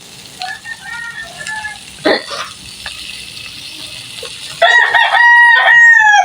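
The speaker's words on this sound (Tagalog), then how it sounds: "Ayan ang manok namin" A rooster crows loudly near the end after a few shorter clucks and calls, with a faint sizzling hiss in the background.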